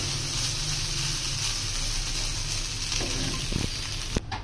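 Chicken frying in a pan, a steady close sizzle that runs throughout with a few soft clinks near the end.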